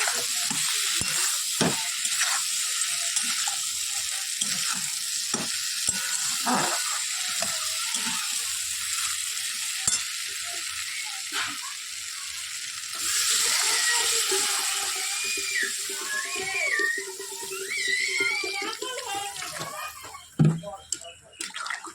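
Water poured into frying masala in a pot hisses and sizzles steadily for a long stretch, with clatters of a utensil and background music and speech running underneath.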